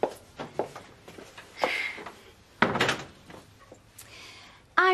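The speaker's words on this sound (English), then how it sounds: "Close the door, Shell." An office door closes in a TV drama scene, a few thuds and knocks at moderate loudness among light room sounds, with no talk heard.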